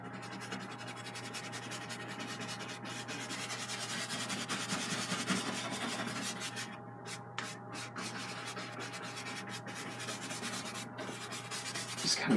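A brush scrubs oil paint onto canvas in steady, close, dry rubbing strokes that continue without pause, with no voices.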